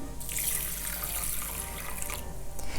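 Cold water runs steadily from a tap nearby over rice in a container, a constant hissing splash that shifts slightly as it fills.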